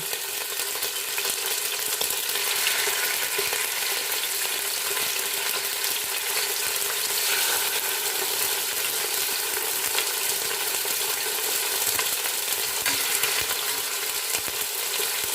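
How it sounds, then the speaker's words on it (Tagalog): Chicken pieces searing in a hot pan for a home-style tamarind chicken stew, giving a steady, close, continuous sizzle and crackle with no talking. "That's the process of searing."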